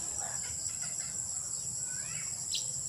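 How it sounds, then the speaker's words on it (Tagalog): Chicken clucking in a backyard farm, faint and intermittent under a steady outdoor hiss of insects and ambient noise. "Tingnan mo yung manok mga kabakyard sa likod ko."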